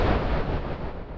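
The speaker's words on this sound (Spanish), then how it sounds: "Un disparo resonó como un trueno en la sala." A gunshot in an audio drama set in a hall rings out like thunder, a dense low boom with a rumbling tail that holds loud for the whole moment before easing slightly.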